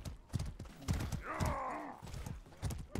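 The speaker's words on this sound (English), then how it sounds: "Horse guy." Hooves clip-clop rapidly as a horse gallops past in the medieval combat game Mordhau, with a loud whinnying neigh rising over the pounding strides before fading.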